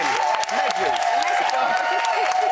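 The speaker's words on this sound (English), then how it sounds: "Give this panel a round of applause." Studio audience applause for a panel on a reality TV companion show, a dense sustained wash of clapping and cheering filling the room at steady loudness with voices mixed in.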